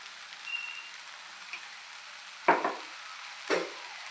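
Egg fried rice frying in a pan gives off a faint, steady sizzle, broken by two sharp scraping clanks of stirring about a second apart.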